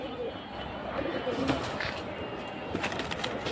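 Pigeons coo softly in a loft housing high-flying fancy breeds, with low murmuring calls and a few brief rustles scattered over a faint background.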